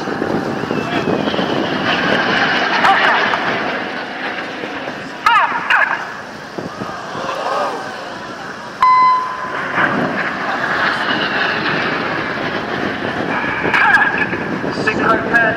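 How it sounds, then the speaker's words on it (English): Four Red Arrows jets streak past at high speed over the Portrush air show, a loud sustained roar that swells and fades with gusty wind buffeting the microphone and faint voices in the background. "These 4 aircraft are now closing at 850 miles an hour."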